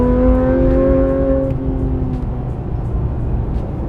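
A Porsche GT3 RS engine drones steadily with a rising harmonic whine, then settles into a rumbling roar as it pulls away, loud and close.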